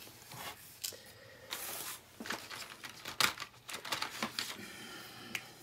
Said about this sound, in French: Je vais la dessiner au feutre.